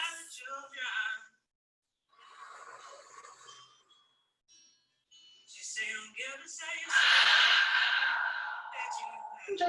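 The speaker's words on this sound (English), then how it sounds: "We're only here for 3 more breaths." Deep yoga breaths at the end of a vinyasa flow: several airy inhales and exhales in slow succession, the final exhale loud and long, close to the listener, with no talking.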